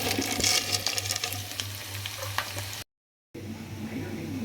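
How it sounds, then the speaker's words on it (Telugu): Bitter gourd frying in hot oil gives a steady, close sizzle with stirring clatter, broken by a brief silent gap before the sizzle resumes. "కొంచెంసేపు ఆయిల్లో వేపుదాం."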